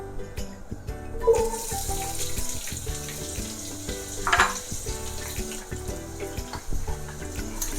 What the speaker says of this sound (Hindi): प्याज को हम अच्छे से फ्राई करेंगे।